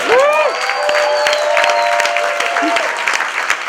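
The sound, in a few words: audience applause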